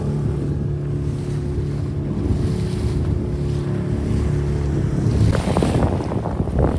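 Large sea waves wash and slap around a small traditional fishing boat at sea, a steady rushing surge under wind buffeting, with a louder splashing crash near the end.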